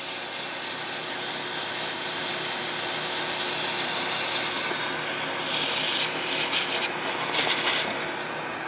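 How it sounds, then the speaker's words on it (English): Hand sanding wood with 120-grit sandpaper gives a continuous, close, rasping rub that keeps an even back-and-forth rhythm, growing slightly choppier toward the end. "Now I'm using 120. To sand out the 80 grit scratches."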